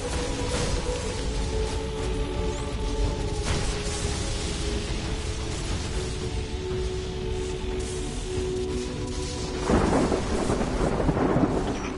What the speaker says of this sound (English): The storm begins to obey.